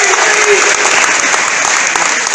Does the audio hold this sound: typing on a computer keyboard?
no